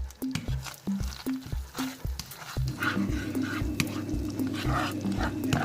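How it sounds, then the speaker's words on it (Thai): Garlic frying in butter in a pan for stir-fried glass noodles, a steady sizzle with rhythmic scraping and stirring strokes of a spatula, close and fairly loud, with little talk. "เกี่ยวกระเทียมให้มันหอมก่อนค่ะ"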